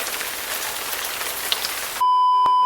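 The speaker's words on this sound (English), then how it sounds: "Okay guys, wait, it's raining." Steady rain patters on a surface outside a villa kitchen, a dense even hiss that runs for two seconds before cutting abruptly to a tonal electronic hum.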